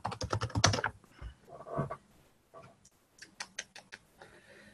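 Quick runs of computer keyboard typing, close and fairly loud, with bursts of keystrokes separated by short pauses and no talking.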